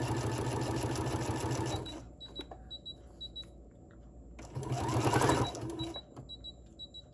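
Sewing machine running a quarter-inch seam while joining paper scraps, with two sustained bursts of steady motor whir and needle chatter separated by a quieter pause with faint clicks.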